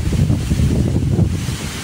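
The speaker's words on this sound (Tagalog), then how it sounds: "malalaki ng alon" Typhoon winds roar across Manila Bay as big waves churn, a loud continuous rumble of gusts buffeting the microphone and heavy surf with no pauses.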